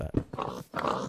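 Blocky pig in Minecraft giving a few short grunts and snorts in quick bursts, close and fairly loud, with a brief pause between them.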